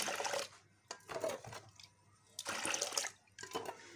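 Mixed lime wash being poured into a container, a soft watery splashing and trickling in several short bursts with quiet gaps between them.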